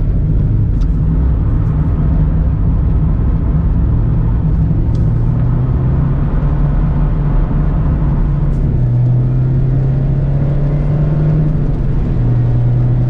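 A 2020 Mazda MX-5 Miata Club drifting on a wet track in the rain, heard from inside the cabin: a loud, steady engine drone with pitch shifts as revs rise and fall, sustained throughout with no talk.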